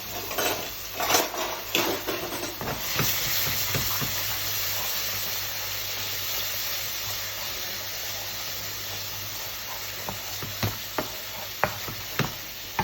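Curry paste, two tablespoons, cooking in oil in a pan for a Thai red curry, giving a steady close sizzle broken by sharp clinks and scrapes of a utensil stirring against the pan, busiest at the start and end.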